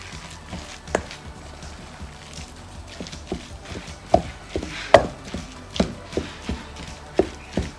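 Baked sushi ingredients stirred in a bowl, with a string of sharp, irregular clicks and taps from the utensil striking the bowl over a faint background. There is no talking.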